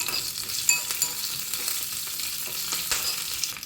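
A ghee tempering of mustard seeds, cumin and curry leaves sizzles and crackles steadily in a pan for a brinjal tamarind stew, with sharp pops and spatters rising above a constant hiss and no talk.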